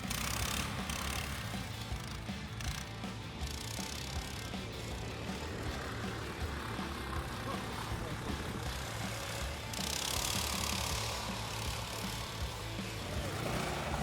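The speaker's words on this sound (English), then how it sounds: "The next one is called Leader Sigma," A Leader Sigma motorsled with an 8 HP engine drones steadily at a moderate distance, partly under a talking voice, with a brief rise in hiss partway through.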